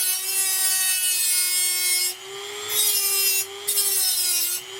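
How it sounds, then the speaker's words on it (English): Abrasive circular edge attachment on a zinc bender grinding and trimming a zinc sheet edge, a loud continuous rasping whine with a steady tone, dipping briefly in pitch and level as the tool bites into the metal. "Kind of like a little grinding tool if you use it on this edge. It's abrasive."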